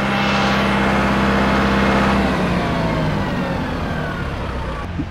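A Kubota tractor engine running steadily at 2000 RPM, a loud, close, continuous mechanical hum with a sustained droning tone that eases slightly toward the end, with no voices.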